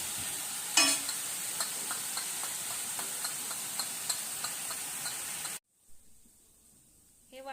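Green chili thecha with peanut powder sautéing in a pan: a steady soft sizzle with light scraping stirs and a sharp clatter near the start, then the cooking noise cuts off abruptly into near silence before a faint return.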